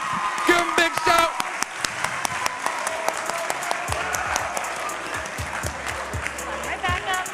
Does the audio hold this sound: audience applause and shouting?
yes